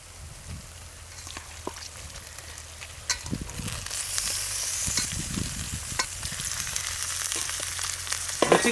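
Ginger garlic paste sizzles and fries in a pan for mutton curry, a steady crackling hiss that grows louder partway through, with occasional scrapes and knocks of a spoon stirring it.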